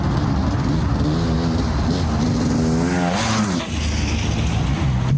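KTM 250 GS motorcycle engine revving steadily through a lap, a loud continuous drone with rising and falling pitch as the rider shifts and accelerates, close and without talk.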